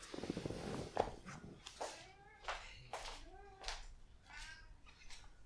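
A cat meows about five or six times, the sliding calls coming at a fairly steady pace and sounding close and clear over a quiet background.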